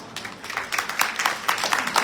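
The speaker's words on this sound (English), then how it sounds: "let's give a big round of applause to those unsung heroes who have made a lasting impact on our lives" Graduation-ceremony applause at Charter College Pasco, a crowd clapping steadily for about two seconds with a dense, rising-and-falling texture of many hands at moderate loudness.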